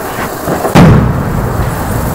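A large Diwali firecracker goes off in one sharp, loud burst, with its rumbling echo fading slowly behind it.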